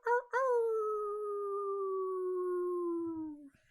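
A person imitates a wolf howl with one long, loud, sustained voiced tone that starts with a short yelp, then glides slowly downward for about three seconds before trailing off.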